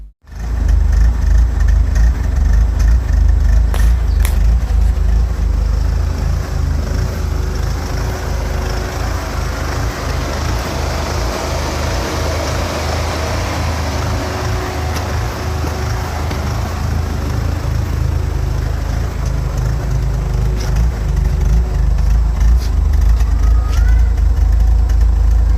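A diesel car's engine runs steadily during DPF regeneration, with a constant loud, low rumble held for the whole stretch and no talk over it.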